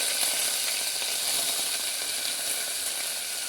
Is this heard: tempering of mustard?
yes